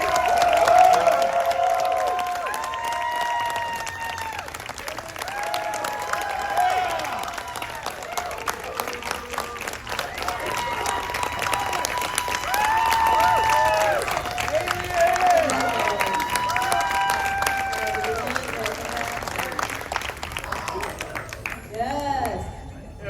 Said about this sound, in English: We're gonna have more applause. You better make it louder.